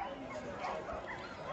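Dogs yip and bark amid a busy outdoor dog sale, where breeders offer home-raised dogs such as golden retrievers, with the barking mixed under the chatter of a crowd.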